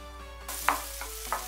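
Onions frying in melted butter in a frying pan give a soft, steady sizzle, with a few brief stirring scrapes standing out near the pan.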